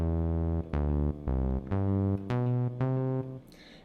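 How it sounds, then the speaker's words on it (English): Reason Subtractor synth playing a raw saw wave with its filter set halfway down: six sustained, harmonic-rich notes in a steady stepping sequence, moderately loud, with no talk and a short decay at the end. "It's a saw wave with the filter turned halfway down."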